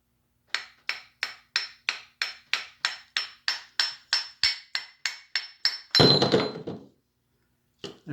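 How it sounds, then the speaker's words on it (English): Brass hammer tapping on Triumph TR6 engine parts during piston and rod installation, about eighteen evenly spaced sharp metallic taps, close and clear, followed by a brief scraping clatter and a faint knock. "This is a brass hammer."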